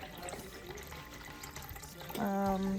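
Liquid, two cups at a time, pours into a pan holding herbs, a steady trickling splash that grows louder and fuller toward the end.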